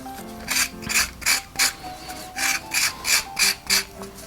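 Semi-mature coconut flesh scraped with a grater in a steady rhythm of about ten rasping strokes, close and moderately loud, with no voices.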